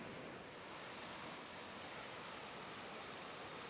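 A river flows out of a cave in a wooded valley near Campbellsburg, Indiana, producing a steady, dense rush of water with a constant roar and no pauses.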